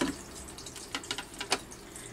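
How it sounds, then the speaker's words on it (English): A spray bottle gives several short spritzes of water, with crisp hissing bursts spaced irregularly and fairly near against a quiet background. "I'm just going to hold it far away and do a little spritz of water."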